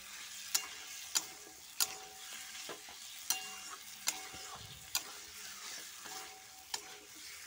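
Chicken being stirred with spices in a pan: a soft, steady frying hiss broken by sharp scrapes and clacks of a utensil against the pan, roughly one every second, close and fairly quiet, no voices.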